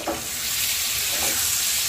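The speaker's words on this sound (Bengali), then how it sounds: "এবার মশলাটাকে ভালো করে কষতে হবে।" Spice paste fries in a pan for a rohu fish curry made without onion or garlic, a close, even sizzle with two brief stirring scrapes near the start and middle.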